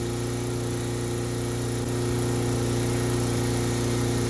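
A lawn mower engine runs steadily in a backyard, a loud continuous mechanical drone with a low throb that holds without pause throughout.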